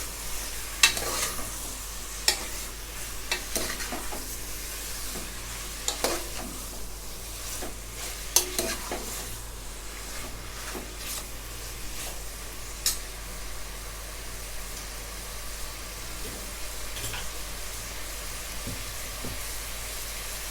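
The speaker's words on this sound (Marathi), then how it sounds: "चांगलं परतून घेते" Saoji mutton is sautéed in a pan, making a steady sizzle with scattered scraping and stirring clicks from a utensil, a continuous close frying hiss with no talking.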